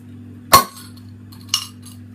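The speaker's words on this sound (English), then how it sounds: "And just opening this little small bottle here, tulip glass." A small bottle of homebrewed rhubarb saison is opened beside a tulip glass: two sharp, close metallic clinks about a second apart, the first louder, over a steady low hum.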